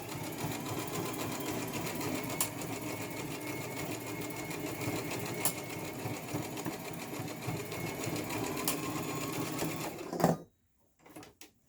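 A sewing machine stitches the weft of a frontal wig in one steady, continuous run with faint regular clicks, then stops abruptly near the end, leaving near silence.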